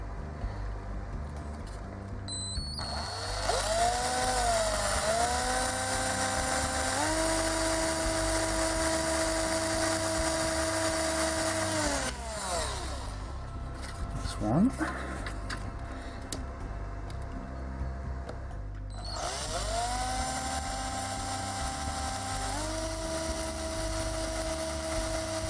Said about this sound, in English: on with the drilling, I think.